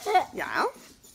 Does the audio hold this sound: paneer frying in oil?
no